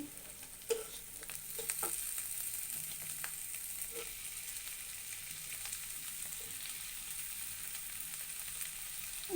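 Bottle gourd pieces fry in a pan for a shrimp lau bhaji, with a steady soft sizzle and occasional light clicks of a utensil throughout.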